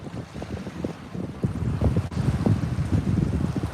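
Gusty wind at a reservoir during a fall fishing outing buffets the microphone in low, uneven rumbles and thumps, with no talking.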